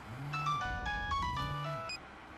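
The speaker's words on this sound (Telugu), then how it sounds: "అతను ఫోన్ రింగ్ అవుతుంది" A mobile phone rings with a melodic electronic ringtone. Repeated bright tonal phrases play over a low rumble and a faint hum inside a moving car, and no one talks.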